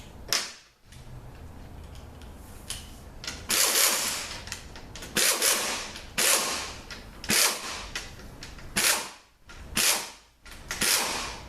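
Ratcheting and clicking from a 12 mm socket wrench while a Toyota A340 automatic transmission is torn down, heard as repeated bursts of sharp mechanical clicks and clanks up close, with brief pauses between strokes.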